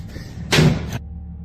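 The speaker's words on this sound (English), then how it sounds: "The cabinets are knocking again." Household cabinets give a single loud knock with a short rattling thud lasting about half a second, set against a low, steady background hum.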